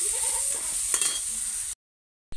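Onions and green chili frying in a pan for an egg and potato curry. A bright, continuous hiss of sizzling oil with a few soft stirring knocks cuts off abruptly into silence, then briefly returns.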